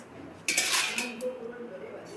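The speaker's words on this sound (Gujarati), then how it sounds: "હવે ડબ્બો ભરી નાખીએ" Crisp fried potato wafers tumble into a tin container, making a brief, bright rattling clatter that starts abruptly midway and fades into a softer rustle.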